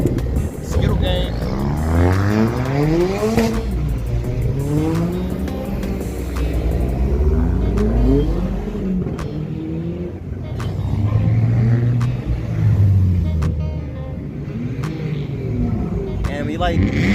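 At a car meet, several car engines rev, with repeated rising and falling surges, some close and loud, others farther off, over a background of indistinct crowd voices.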